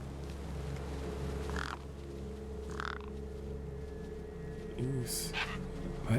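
Crows cawing in the adventure video game Beyond a Steel Sky, a few short harsh calls spaced over a steady low ambient hum.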